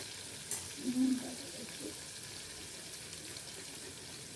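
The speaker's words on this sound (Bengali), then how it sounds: "অল্প করে নুন দিয়ে দিলাম আলুটা ভাজা ভাজা হোক" Potatoes sprinkled with a little salt fry in a pan during rooftop cooking, a faint, steady sizzle with a brief murmur of voice near the start.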